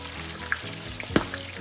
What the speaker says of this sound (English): So we need to fry it more.